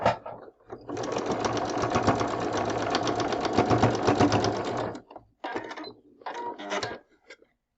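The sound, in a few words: sewing machine stitching fabric for quilt block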